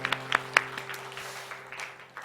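A church congregation at a Sunday service claps a few sharp, distinct beats close by over a low steady hum, then the claps thin out and fade.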